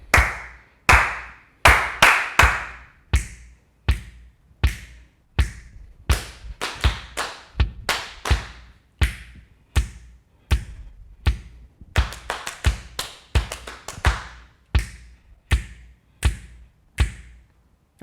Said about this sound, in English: copy my rhythm, whether it's hand claps or leg pats.